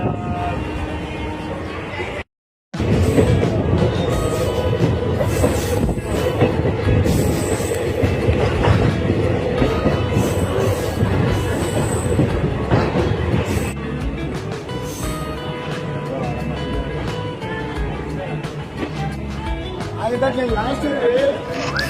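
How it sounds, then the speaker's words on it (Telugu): A train at Nandyal railway station rumbles loudly and continuously, with squealing wheels and rattling cars. Voices talk over the noise, and the sound cuts out briefly near the start. "ఇది నంద్యాల రైల్వే స్టేషన్."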